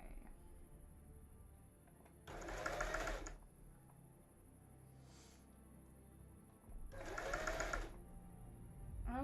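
A sewing machine stitching forward and backward in two short whirring bursts a few seconds apart, close but fairly quiet, against a faint hum, with no talk.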